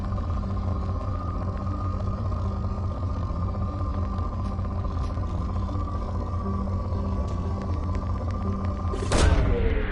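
A probe launches in a video game, a steady low mechanical rumble and hum building to a sudden loud burst and whoosh near the end, with no talk.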